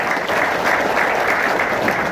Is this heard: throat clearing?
no